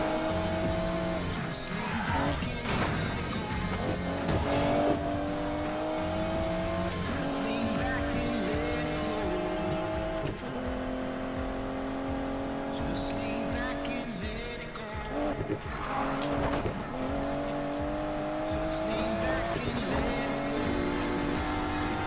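A race car from the video game Need for Speed Payback accelerates with a loud, continuous engine whine whose pitch climbs and shifts through gears across the whole stretch, with occasional tire squeal and game music or voices mixed underneath.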